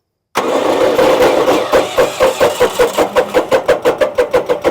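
An ATV flail mower engine cranks with the key and choke applied and fires up, a steady loud starter whir giving way to a rapid, rhythmic engine beat that quickens as it catches and runs.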